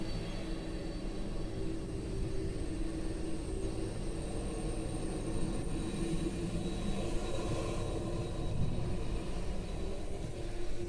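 A McDonnell Douglas DC-10 jet departs Honolulu airport in Hawaii, and its engines give a sustained, steady roar that swells slightly toward the end and carries some distance.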